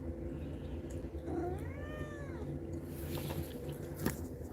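A pet kitten gives one clear, drawn-out meow over a quiet indoor room hum, followed by faint small rustles.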